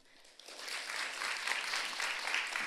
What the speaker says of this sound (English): So please, a hand of applause for Tracy.